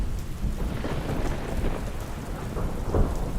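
A thunderstorm: steady heavy rain patters on surfaces while low thunder rumbles roll underneath, loud and continuous with no voices.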